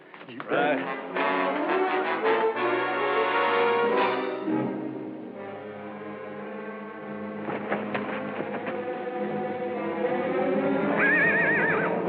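A loud horse neigh opens the clip in a western TV show, followed by further whinnies and snorts over a steady background, with a high shrill whinny near the end.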